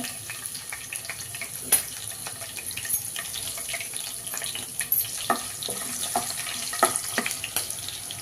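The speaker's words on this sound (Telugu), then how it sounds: "పచ్చిమిర్చి వేగినాయండి" Five green chillies, slit lengthwise, fry in about five spoons of hot oil, giving a steady soft crackle with scattered sharp pops and spits throughout.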